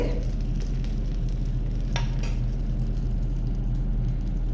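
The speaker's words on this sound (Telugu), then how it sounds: "ఈ విధంగా అయితే తాలింపు వేసుకోవాలి" Mustard seeds and spices sizzling in hot oil in a pan as a tempering for coconut chutney, a steady dense frying hiss with a couple of brief sharp crackles, close and continuous.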